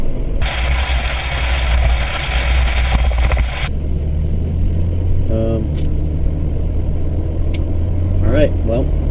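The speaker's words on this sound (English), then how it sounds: "trucks going the other way" Trucks passing on the road going the other way, heard from inside a moving vehicle as a loud rushing swell over a steady engine rumble, with people talking over it.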